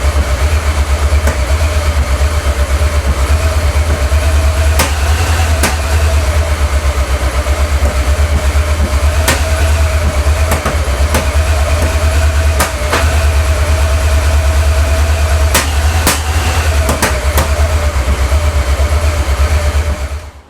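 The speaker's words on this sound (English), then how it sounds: "The car now runs really close." A Porsche 928's V8 engine idles loudly and steadily up close, with a low rumbling throb and occasional sharp ticks and clicks over the drone.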